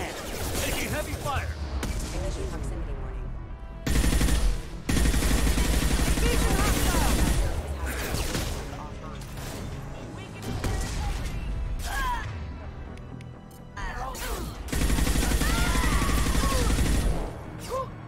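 Gunfire in the video game Mass Effect 2, loud bursts of rapid shots and crashing impacts that come in waves with brief lulls, mixed with voices talking through the fighting.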